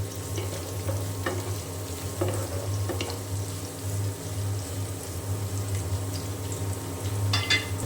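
Green chillies, onion and garlic fry in a pan with a steady, soft sizzle and occasional stirring scrapes, close up over a low constant background hum, with no voices.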